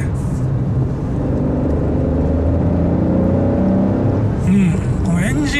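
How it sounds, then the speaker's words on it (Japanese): Honda N-ONE RS turbo engine with six-speed manual pulling hard uphill in third gear at about 30 km/h on a mountain road, steady revs, a low, full drone that rises slightly, with a faint high whine near the end. "このエンジン音も結構太い音がする。"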